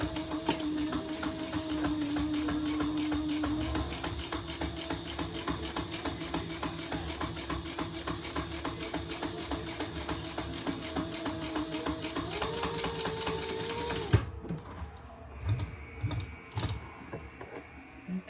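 A sewing machine runs a 1/8 inch top stitch through vinyl for the Horizon Sling, a steady rapid mechanical chatter held at close range for about fourteen seconds before stopping, followed by quieter handling and faint background sounds.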